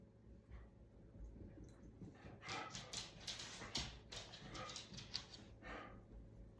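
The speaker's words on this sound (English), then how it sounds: "Another dog must have walked by." A dog barks in a quick run of repeated, sharp bursts as another dog passes by, the barking clustered through the middle of the stretch and sounding somewhat distant and subdued, with no talking.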